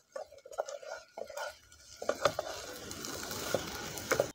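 Fried arbi (taro root) being stirred with chaat masala in a pan, with irregular scraping and knocking of a spoon against the pan that come in bursts, close and moderately loud.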